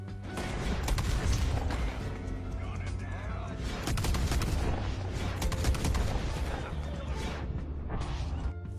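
Dual-wielded sawed-off double barrel shotguns fire in Red Dead Redemption 2, loud heavy blasts repeating over dense game noise with a voice talking throughout.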